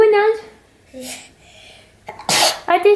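A small, sharp baby sneeze close by, with soft vocal sounds just before and right after it.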